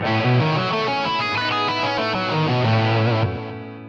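A distorted electric guitar plays a quick arpeggio run of stacked notes, starting on the tonic and moving up from the second scale degree, loud and close with effects, the notes ringing together before fading.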